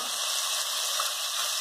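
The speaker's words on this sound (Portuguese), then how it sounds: "a gente vai deixar essa nossa linguiça aqui fritar bem e dourar bem" Tuscan sausage frying in a pan, a steady, dense sizzle with a fine crackling hiss that holds even throughout, fairly close and with no voices over it.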